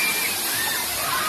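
Water splashes and sprays in a broad continuous wash at a theme park water play area, close and loud for a brief moment.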